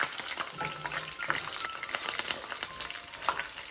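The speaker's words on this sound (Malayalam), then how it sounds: "ആ സമയം ഞാൻ ഇതിലേക്ക് കുറച്ച് കറിവേപ്പിലയും കൂടെ ഇട്ട് കൊടുക്കുകയാണ്." Curry leaves dropped into hot oil where garlic ribbon pakkavada is frying, producing a busy crackling sizzle with light stirring noises throughout.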